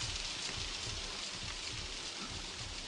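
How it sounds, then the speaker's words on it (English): Rain falling in the horror video game Outlast, a steady dense hiss of drops on surfaces, even and continuous without speech. "It's raining, man."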